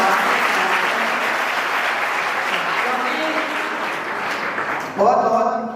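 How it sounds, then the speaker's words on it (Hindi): An audience at a science talk claps steadily in a continuous, fairly loud wash of applause that fades slightly before a voice begins speaking over its tail at the end. "हम सारे लोग अच्छी तालियां बजाते हैं"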